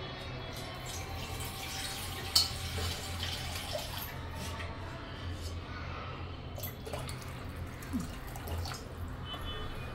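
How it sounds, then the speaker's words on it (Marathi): Water for pithla coming to a boil in a pan on the stove, a steady soft bubbling and hissing with occasional small pops, heard close and alone for ten seconds. "किती छान उकळी आली आहे"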